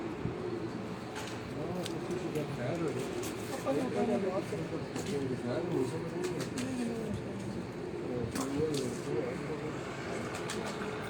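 Pigeons coo softly in a steady, low murmur through the whole stretch, with someone talking over them outdoors.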